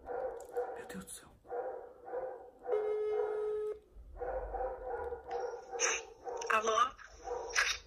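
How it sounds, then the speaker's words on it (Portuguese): A dog barks in short bursts near the microphone while a person talks over it, the barking mixing with the speech. "Ignora o cachorro latindo."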